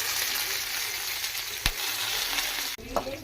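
Whole spices, onions and green chillies frying in a pan for chicken curry, a steady close broadband sizzle with a sharp clatter of stirring partway through and another brief knock near the end.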